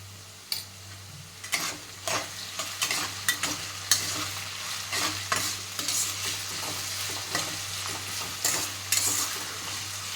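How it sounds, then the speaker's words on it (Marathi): Potatoes being stirred with salt in a hot pan, a spoon scraping and turning them in bursts over a constant sizzle of frying. "आता बटाट्यामध्ये थोडासा मीठ टाकून चांगला मिक्स करून घ्यायचं आपल्याला"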